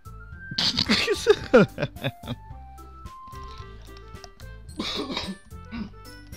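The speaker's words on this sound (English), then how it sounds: "I hate having a cough!" One person coughs and clears their throat in a cluster of harsh, close bursts, followed by a pause and another softer round of coughing.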